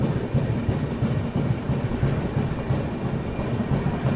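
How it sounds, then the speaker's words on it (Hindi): An AC Duronto Express rolls slowly through Maihar railway station, a steady close rumble with rhythmic clickety-clack of wheels over rail joints continuing throughout. "इसलिए एकदम धीमी रफ्तार में, नॉर्मल रफ्तार में अपनी ट्रेन यहाँ पे स्किप करी है मैहर रेलवे स्टेशन को।"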